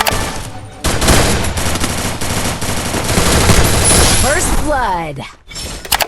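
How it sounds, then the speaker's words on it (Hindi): MP40 submachine gun fire in the Free Fire video game comes as loud, rapid bursts that overlap with game effects, followed by a short pause and a few more shots. "पिछले राउंड की तरह मैंने इस राउंड में भी MP40 से हेडशॉट मार के तनाश भाई को मार दिया"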